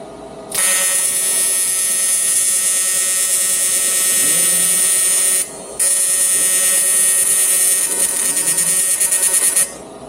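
An Everlast Lightning MTS225 TIG welder runs an arc on aluminum, giving a loud, steady electric buzz with a high hiss that holds for several seconds, breaks off briefly, then resumes before cutting out.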